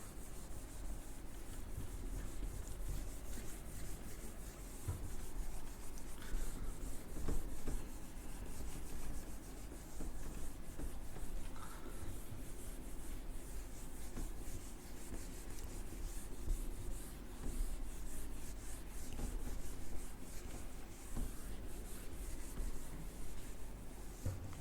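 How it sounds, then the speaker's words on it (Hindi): A board is erased during a classroom lesson with steady, continuous scrubbing that runs close and unbroken for about 25 seconds, with no speech. "मैं इसको रब कर रहा हूं।"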